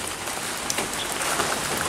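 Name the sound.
rain falling on a garden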